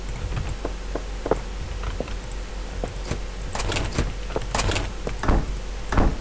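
A wooden door in the video game Minetest, with several sharp clacks and creaking opening and closing sounds at irregular intervals, close and clear against a low background hum.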